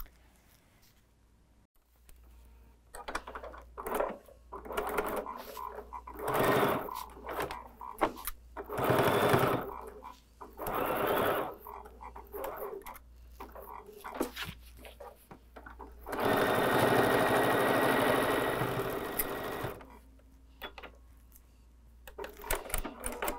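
A sewing machine stitching a seam in fabric, running in several bursts of varying length with pauses between them, close and fairly loud.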